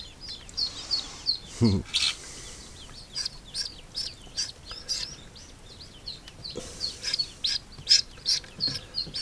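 A newly hatched duckling peeps in warm water during a hatch rescue, giving a run of high, quick, fairly close chirps separated by short pauses. Soft splashes or rubbing break in now and then.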